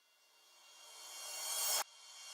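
A reversed drum sample with a metallic ring, produced in Logic, swells steadily louder over nearly two seconds before cutting off abruptly, followed by a faint lingering tone.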